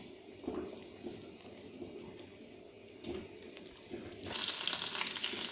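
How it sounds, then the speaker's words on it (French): Onion and garlic fry in a pan of butter and oil, a steady low sizzle with soft stirring scrapes, then a louder, brighter hiss swells near the end. "je vais faire revenir l'oignon avec de l'ail"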